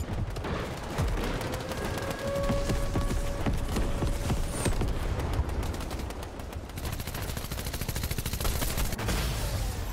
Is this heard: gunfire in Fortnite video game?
yes